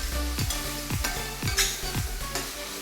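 Masala frying in oil for vada curry, stirred in regular strokes about twice a second, each scrape riding over a continuous close sizzle with a low steady hum beneath.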